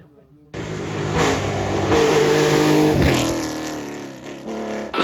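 A rally car on the Tour de Corse stage arrives after a brief quiet start, its engine snarling loud and close with rising and falling revs, then fading slightly as it passes.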